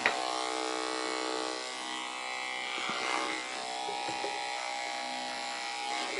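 Electric dog clippers fitted with a number 4 blade hum in a steady, fairly faint electric buzz the whole way through, with slight changes in tone as the blade moves through the coat.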